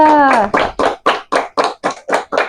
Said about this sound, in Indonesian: Ayo tepuk tangan buat kelompok 2